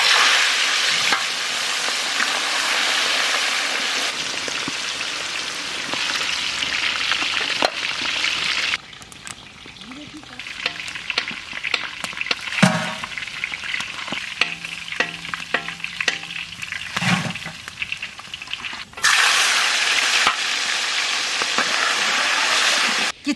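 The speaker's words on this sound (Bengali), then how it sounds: "আমরা রিঠে মাছ ভাজতে নেবো সরষের তেল" Rithe fish sizzles loudly in mustard oil in a wok during village cooking, a steady crackling fry broken by quieter stretches of spattering, utensil clinks and stirring, then the full loud sizzle again, with no talk.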